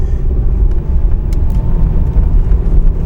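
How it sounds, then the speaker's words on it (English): A truck on steel-studded snow tires labouring uphill on a slippery snowy road, its engine a loud, steady low rumble heard from inside the cab throughout, with no speech. "we're going up hill here, and you can see that the truck is working pretty hard here"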